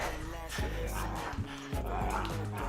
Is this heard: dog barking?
yes